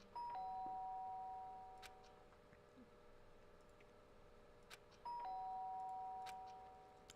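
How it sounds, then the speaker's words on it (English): A synthetic two-tone doorbell chime in the video game Danganronpa rings twice, several seconds apart, over a faint steady background hum. "Sharp sound of the doorbell pierced my sleepy haze"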